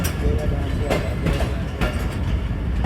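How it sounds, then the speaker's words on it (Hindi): Passenger train approaching Gujranwala railway station in Pakistan during monsoon rain and a thunderstorm: a steady heavy rumble with rhythmic wheel clatter and occasional sharper knocks, loud and close throughout. "ट्रेन हमारी अप्रोच बना रही है जी सिर्फ़ और सिर्फ 10 मिनट डिले के साथ गुजरावाला रेलवे स्टेशन के ऊपर"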